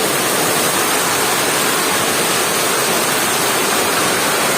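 Heavy rain floods water around a house in Gajapati, a dense, loud, unbroken roar of rushing water and downpour filling the whole stretch.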